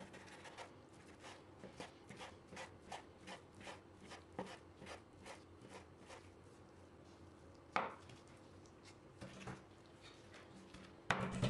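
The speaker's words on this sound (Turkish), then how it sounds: "Şimdi hepsini küçük küçük doğrayacağım." A knife chops food on a cutting board in fast, even, rapid strokes, quiet and close, with a few louder knocks near the end.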